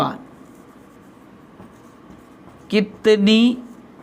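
A question written on a board during a lesson about clock hands, heard as faint, quiet scratching strokes under room hiss, followed near the end by a short burst of a man's speech.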